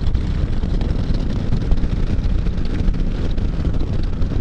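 Strong wind buffeting a microphone outdoors on a mild, rainy December day: a loud, continuous broadband roar with heavy low-end rumble and constant gusty fluctuations, no voices.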